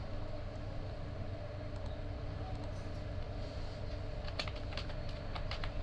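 Keystrokes on a computer keyboard tap in quick clusters near the end, faint over a steady low hum of background noise.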